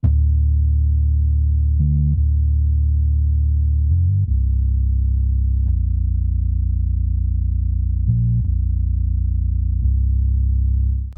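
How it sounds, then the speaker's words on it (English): Deep synth bass line made in Serum, sustained low notes changing pitch every couple of seconds in a slow hip hop loop, heard alone and loud. "It's a synth bass and it sounds like this."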